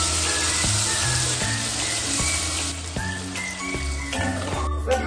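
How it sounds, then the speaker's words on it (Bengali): Paneer sizzles steadily in hot spiced oil in a pan, a continuous close frying hiss that carries through the whole stretch alongside some soft kitchen tones. "মশলা থেকে তেল ছেড়ে দিয়েছে, এবার আমি পনিরটা দিই।"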